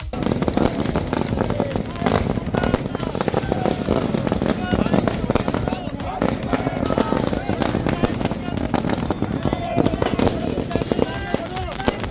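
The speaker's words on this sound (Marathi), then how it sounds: "फटाक्यांची जोरदार आतिषबाजी केली आहे" A dense, continuous barrage of firecrackers and fireworks bursting, loud and crackling, with crowd noise and voices mixed in throughout, at a political supporters' celebration of a cabinet swearing-in in Maharashtra.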